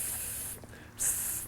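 Voice imitating aerosol spray noises while working on an Acura Vigor blower motor, two sharp hissing bursts separated by a short pause.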